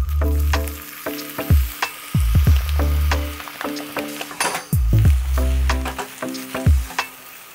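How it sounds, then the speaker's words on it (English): Riced cauliflower fries in avocado oil in a pan on a Cook Partner steel camp stove, giving a loud, close sizzle broken by frequent scraping and clinking as it is stirred. "this earthly choice rice cauliflower is pretty wet. So you want to cook it and dry it out, mixing it pretty frequently"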